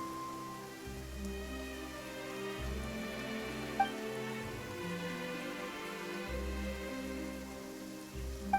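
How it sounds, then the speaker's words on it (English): Rain falls in a video game, a soft steady patter beneath quiet game music and tones, with no talk. "Why is it raining all of a sudden?"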